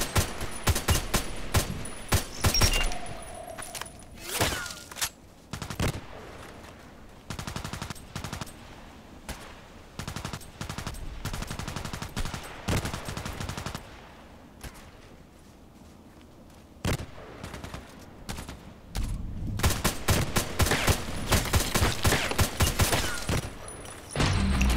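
Rapid, loud HK417 rifle gunfire in dense, uneven bursts and volleys, with brief lulls and clusters of sharp cracks packed close together throughout.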